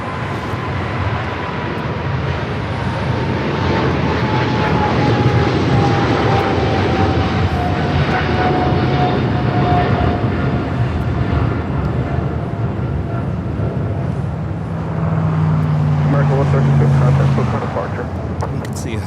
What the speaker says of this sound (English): American flight heading to London Heathrow, 777 at 300 ER, rolling down at 25 right.